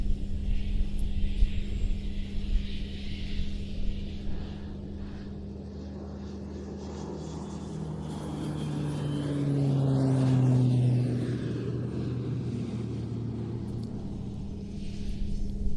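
A display aircraft makes its final low pass over the Leszno airshow with landing gear extended and wings rocking, its engine roar swelling and Doppler-shifting as it sweeps past, then fading against steady background rumble.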